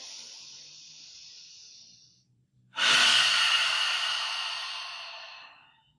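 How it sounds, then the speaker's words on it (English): A deep cleansing breath during a midday yoga session: a soft, steady exhale fades to a moment of silence, then a loud, close, full inhale of breath that slowly tapers off. "If you'd like to join me for one final cleansing breath, exhale completely. Take a big breath in."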